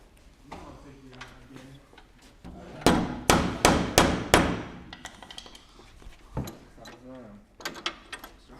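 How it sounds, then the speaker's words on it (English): Four or five sharp metallic hammer taps on a jack ring out in quick succession, with more scattered knocks and voices talking around them, while working on a 1986 Monte Carlo SS T-Top. "take that hammer and keep tapping that jack over"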